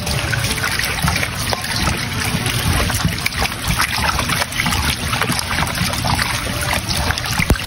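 Running water splashes and trickles while chopped pork ribs are rinsed in a kitchen, a continuous noisy wash with small clattering bursts.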